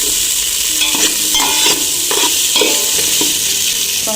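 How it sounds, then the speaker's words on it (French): Onions fry in sunflower oil with a constant close sizzle, while a utensil stirs them in repeated scraping strokes against the pan, about once every half second. "Ensuite, on va verser les oignons. Donc là, il faut bien remuer."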